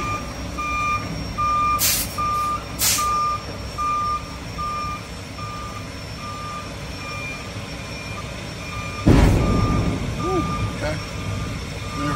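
Semi truck backing up while its tandems are slid, with a steady reversing beep pulsing throughout over a rumbling diesel idle, a couple of hissing air bursts early on, and a louder clunk near the end.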